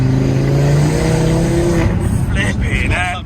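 A 400 bhp Audi RS3 8P's exhaust booms loudly from inside the car as it accelerates hard, its tone rising steadily, then gear-change pops and a voice follow near the end.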